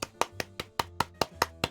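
A quick run of eight sharp hand claps at a steady rhythm, close and fairly loud, with no voices.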